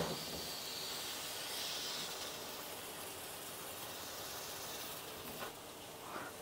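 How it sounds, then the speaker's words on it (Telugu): Steam hissing from a cooking pot in a home kitchen, a faint, steady airy hiss that holds throughout without talk. "ఎంత ఆవిరి వచ్చిందో"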